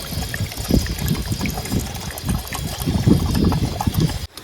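Water pours steadily into a pot of potatoes set for boiling at a night forest campsite, a close, continuous splashing trickle that stops abruptly at the end.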